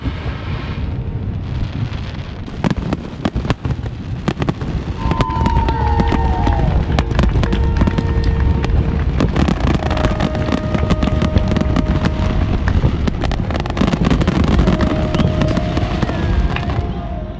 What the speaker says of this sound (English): enjoyed the brilliant fireworks directly next to our anchorage